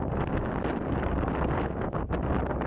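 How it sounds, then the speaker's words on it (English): Strong wind on a hilltop in Newfoundland and Labrador buffets the microphone with a loud, constant rumbling roar and ragged gusts, with no other sounds heard. "That wind is much stronger than what it looks like in the video."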